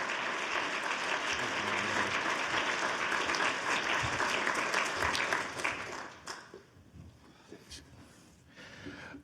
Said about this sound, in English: Another round of applause for Dr. Chico Tillmon.